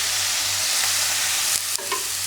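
Spice powder stirred and frying in hot oil, a steady loud sizzle with scraping stir strokes and a low hum underneath, no voices.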